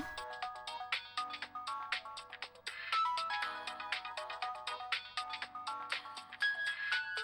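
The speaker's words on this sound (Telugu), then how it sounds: "ఎవరబ్బా ఫోను?" A phone ringtone plays a bright, repeating electronic melody, loud and steady, with no talking over it.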